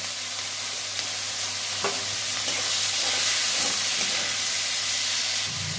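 Onion, chili and turmeric frying with mustard paste, a steady loud sizzle and hiss throughout with occasional soft stirring knocks.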